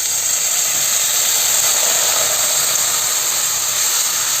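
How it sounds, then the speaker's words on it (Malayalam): Hot water added to a cooking potato and green pea masala in a hot pan; a loud, steady hiss and steamy sizzle fills the whole stretch without pause. "ഈ സമയത്ത് നമുക്കിതിലേക്ക് കുറച്ച് ചൂടുവെള്ളം ചേർത്ത് കൊടുക്കാം"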